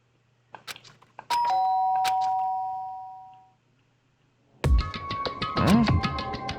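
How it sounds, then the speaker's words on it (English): A doorbell chime rings in the Danganronpa: Trigger Happy Havoc video game, a clear sustained ding that fades out, then soft musical game tones follow. "did I hear the doorbell?"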